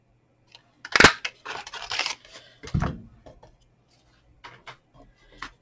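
Paper being trimmed with scissors for a personalised candle gift box: a sharp snip followed by a series of cuts and rustles, then quieter scattered handling sounds, close and with no talk.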